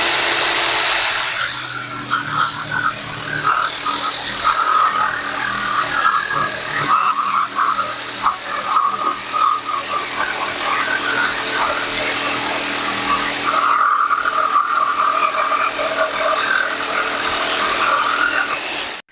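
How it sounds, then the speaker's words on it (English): A Hart 20-volt cordless jigsaw with a 10 TPI blade, orbital setting 3, cuts through wood in a loud, continuous buzzing run with a brief dip near the end before carrying on. "the orbital setting makes a big difference on how fast that jigsaw can cut"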